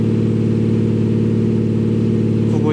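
A synthesized virtual exhaust note from an active sound system imitating a McLaren 720S engine, a loud, steady, rich mechanical drone held evenly throughout, with a slight rising whine at the very end.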